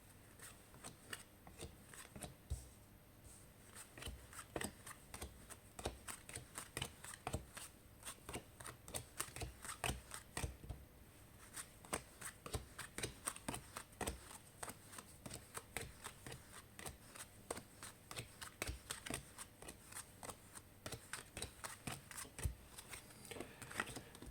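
A deck of cards being split into piles and handled during a card reading, with a faint, quiet stream of rapid papery clicks and flicks continuing throughout.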